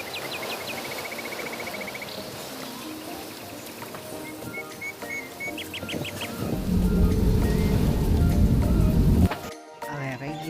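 Sudden heavy rain arrives after birds chirp over a windy background, then swells into a loud, steady downpour for several seconds before cutting off abruptly.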